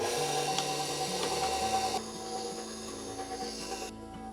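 A stand mixer with an ice cream bowl attachment churns mango lime ice cream, giving a steady motor hum and low rumble with a faint rasping scrape that continues throughout.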